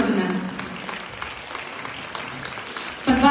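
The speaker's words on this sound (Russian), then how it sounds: "Под ваши аплодисменты." An audience applauds at an award ceremony, scattered clapping that fades under a presenter's voice and then rises again at the end.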